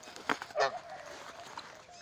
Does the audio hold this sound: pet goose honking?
yes